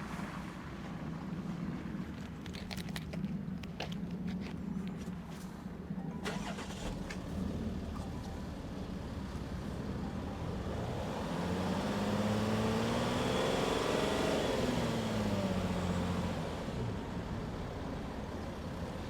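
Wind buffets the microphone while a Range Rover Velar engine runs outdoors. Partway through, the engine revs up in a rising, then falling sweep and eases back down, loud and close.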